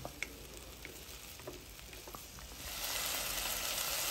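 Carrots, onions, bell pepper and garlic sauté in a pan with a soft, steady sizzle and occasional light clicks of stirring, the frying hiss swelling louder toward the end.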